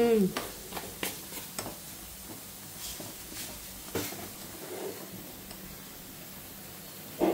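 Fenugreek seeds sizzle in hot oil, a soft continuous frying hiss broken by several sharp ticks and pops, close and fairly quiet.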